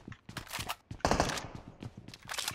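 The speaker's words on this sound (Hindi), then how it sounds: "फायरिंग आई थी नीले वाले से" Rapid gunfire in the video game BGMI, quick strings of sharp shots in bursts with a louder volley in the middle, fairly close and with no talk over it.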